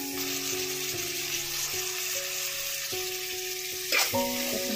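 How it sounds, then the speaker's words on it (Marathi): Tomatoes sizzling and frying in a pan while being stirred for mutton bhaji, a steady hiss broken by scraping stirs, under sustained instrumental background music. "आता आपण ह्यात टोमॅटो टाकूया,"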